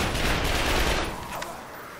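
Rapid carbine gunfire in the video game The Darkness II, a loud, dense burst of shots that fills the moment and then tails off slightly, with no talking over it.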